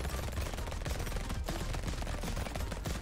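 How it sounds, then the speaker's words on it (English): A minigun firing nonstop in the arcade game Brotato, a dense, unbroken stream of rapid shots layered over busy game effects, steady and loud throughout with no talk. "the minigun is like bonkers. It attacks twice as fast as the SMG."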